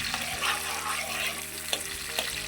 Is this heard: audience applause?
no